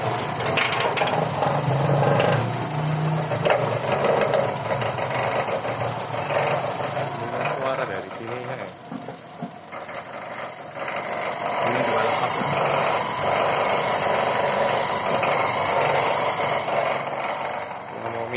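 A 1990 Toyota Kijang Super's 5K 1500 cc engine runs steadily at idle up close, a continuous busy mechanical clatter and hum with a brief dip in level midway.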